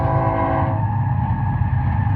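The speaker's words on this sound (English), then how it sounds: "You can hear the train going by." A train passes through open desert, heard as a steady, loud low rumble with a continuous mechanical drone and a faint higher tone, unbroken for the whole moment and with no one speaking.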